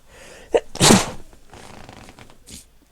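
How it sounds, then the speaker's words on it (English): A single loud, sharp human sneeze bursts out near the mic after a brief inhale, with quiet room sound before and a faint short noise afterward, during a Rocket League gaming session. "I sneeze."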